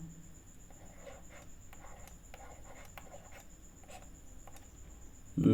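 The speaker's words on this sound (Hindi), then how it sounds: "लिखते हैं उसके बाद ही समझिएगा" A pen scratches across paper while a maths problem is worked out, with quiet, close strokes in short bursts against a faint background hum.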